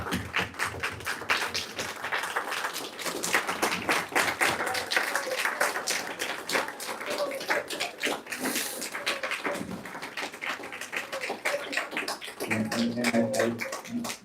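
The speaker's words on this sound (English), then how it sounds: "I think it was standing round of applause for everybody." Sustained standing ovation from an audience at a talk on famine, food and freedom, dense clapping continuing for the full stretch with some voices and cheers mixed in near the end.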